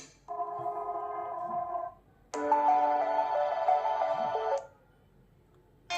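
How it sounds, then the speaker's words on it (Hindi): Music from the small speaker of a Fire-Boltt Ninja Call Pro smartwatch: two tonal phrases, the second louder, thin and tinny with gaps between, and no talk. "म्यूजिक जो हो रहा है प्ले हो रहा है वॉच में"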